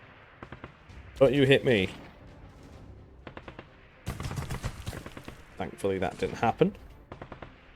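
Tank cannon and gunfire in the Arms Trade Tycoon Tanks video game come in several separate bursts of booming shots and rattling fire, with someone talking excitedly between and over them.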